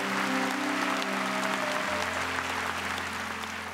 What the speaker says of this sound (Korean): 우리 하나님께 감사의 박수 올려 돌리십시오.